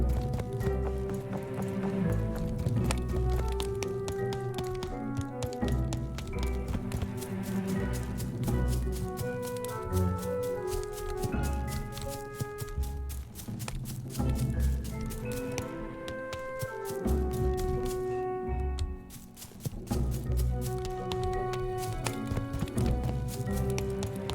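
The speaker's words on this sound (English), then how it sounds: "Hear those footsteps over the different ground tiles." In the Super Dungeon Designer video game, a character's footsteps tap over different ground tiles in a quick, steady run. They play under loud, continuous dark-forest background music.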